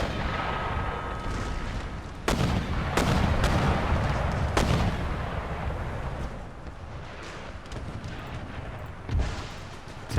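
Mortar and artillery fire in the video game Empire: Total War, several sharp booming blasts at irregular intervals over a continuous roaring battle din.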